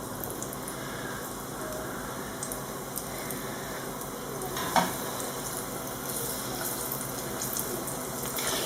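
Continuous sizzling and crackling of squid frying in hot oil, steady and close, with a brief clink partway through.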